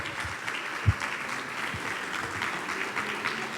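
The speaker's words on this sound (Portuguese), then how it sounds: "Palmas!" Studio audience applause on a Brazilian TV show, a soft, steady patter of many hands clapping at moderate distance for a few seconds.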